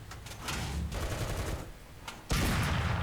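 A T34 Calliope Sherman in War Thunder fires its rocket launcher, a dense crackling burst of rapid launches, then a louder, sharper blast near the end, all close and without talk.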